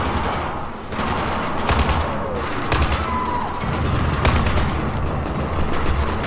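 Gunfire in Battlefield 4 on the South China Sea mission: sustained rapid shots and bursts crackle loudly throughout, mixed with crashes and booming impacts.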